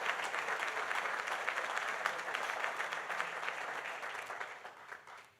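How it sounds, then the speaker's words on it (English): A crowd applauds steadily at the opening of a new Delta airport concourse at LaGuardia, with dense, continuous clapping that holds for several seconds and then begins to fade at the end. "So a big round of applause."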